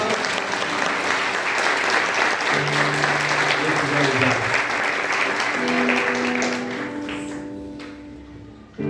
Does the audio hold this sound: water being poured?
no